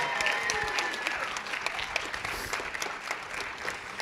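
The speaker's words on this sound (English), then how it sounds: "can we just give a loud applause to the Capitol Theater" Audience applause fills the Capitol Theater, a steady wash of clapping at moderate level with a few sharper claps standing out, continuing without pause.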